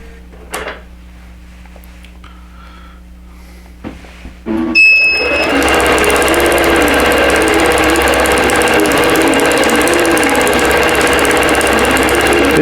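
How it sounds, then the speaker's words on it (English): An embroidery machine clicks and clunks as it moves to its start position, then launches into a loud continuous rapid stitching drone while sewing out a quilt block. "It's going to sew this block out."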